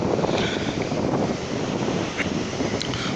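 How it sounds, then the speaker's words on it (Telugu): Strong gusting wind buffets the microphone at a beach in a loud, continuous roar, with a faint wash of rough surf underneath. "సముద్రం కొంచెం రఫ్గా ఉండడం వల్ల విండ్ స్పీడ్ కూడా ఎక్కువ ఉంది"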